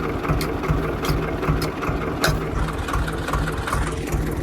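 A tractor engine idles in a muddy field, a steady low rhythmic chug that holds at an even level throughout, close by with no voices.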